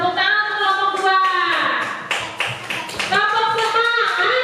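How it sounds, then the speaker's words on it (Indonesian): A classroom of children chant loudly together and break into a burst of rhythmic hand-clapping for their classmates, the claps briefly taking over in the middle before the voices carry on. "Tepuk tangan untuk kelompok 2."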